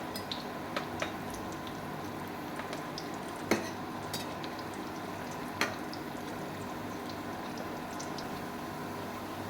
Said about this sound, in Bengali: সবগুলো আমি দিয়ে দেব তেলের মধ্যে। কত দারুণ ভাজা হবে